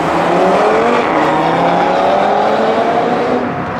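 Cars rev and accelerate loudly around a Halloween car meet on London streets, engines droning and rising in pitch with a continuous roar of passing traffic close by.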